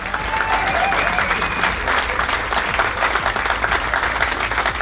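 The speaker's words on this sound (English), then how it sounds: "Please give her a round of applause." Sustained, dense applause from a crowded room at the Golden Latin Awards 2019 ceremony in the Lehigh Valley, heard close and steady throughout.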